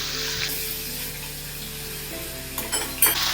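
Garlic and ginger paste sizzling in hot oil with cumin seeds while tempering a dal tadka, a steady close frying hiss with a few stirring clinks near the end.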